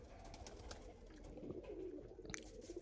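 Andhra pigeons coo softly in a loft, low murmuring calls continuing steadily without any speech.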